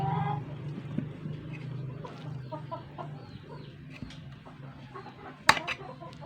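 Several chickens cluck softly nearby in scattered bursts while being fed, with a sharp clatter near the end.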